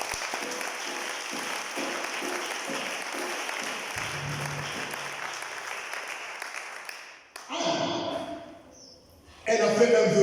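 A church congregation breaks into sustained loud applause during a Sunday worship service, clapping for several seconds before it fades, then a voice speaks and applause briefly returns.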